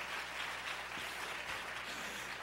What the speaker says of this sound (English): Come on now, clap your hands to the Lord.